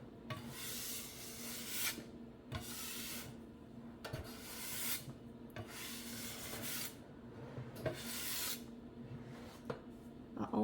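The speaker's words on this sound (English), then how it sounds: "I always like to use a scraper to wipe that up." A kitchen scraper rubs and scrapes across a countertop during cleanup after biscuit making, in a series of rough rasping strokes, roughly one every second or two, fairly close and moderately loud.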